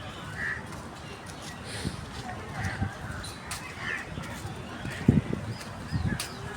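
Birds pecking at grain and calling among trees outdoors, with scattered caws and short chirps at varying distances over soft background noise, and a voice speaking quietly in between.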